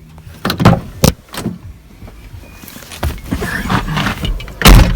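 A pickup truck's door lock clicks and the door opens with a few sharp, close thunks and mechanical clatter, then some rustling handling noise.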